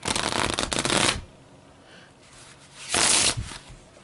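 Playing cards are riffle shuffled twice, each a loud, close, fluttering burst of rapid card snaps lasting about a second, separated by a quiet pause.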